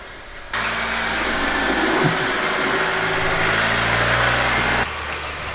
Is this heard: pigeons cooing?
no